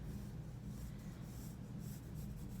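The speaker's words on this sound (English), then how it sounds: "I am just drawing some of the main lines" A pencil sketches lines on paper while drawing fabric, a continuous close scratchy rubbing with slight shifts in stroke pressure, no voices.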